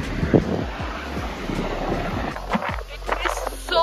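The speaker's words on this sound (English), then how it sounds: "It is so windy, so windy." Heavy wind buffets the microphone with a constant low roar and gusty rumbling throughout, with brief scattered noises mixed in.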